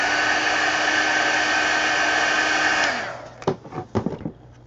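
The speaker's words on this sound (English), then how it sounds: "Let me hit that with the heat gun real quick." A heat gun blows with a loud, steady whoosh as it dries paint on an altered book collage. It cuts off after about three seconds, and a few clattering handling noises follow.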